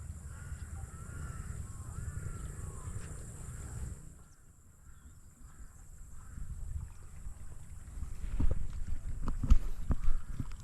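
Crows caw repeatedly at a distance over a farm plot, over a steady rumble of wind and water, with louder knocks and rustling toward the end.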